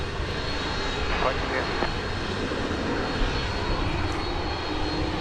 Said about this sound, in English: And here comes that other MD-11.